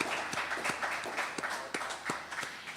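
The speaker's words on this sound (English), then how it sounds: "how about one more round of applause for Gary Gilleran" Studio audience applauds Gary Gilleran during a live radio broadcast, a steady wash of clapping with a few louder individual claps standing out, moderately near and continuous throughout.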